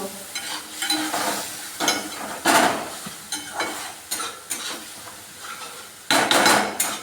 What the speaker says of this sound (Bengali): জল দিয়ে কি করব, মশলাটা নাড়িয়ে নেব